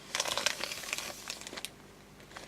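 Crinkling plastic packaging being snipped with scissors and handled up close, a burst of crackly rustles that thins out toward the end.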